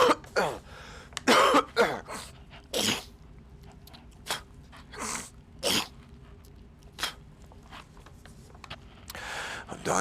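A man coughs in repeated harsh bursts, some close together and others spaced out, with quiet gaps in between.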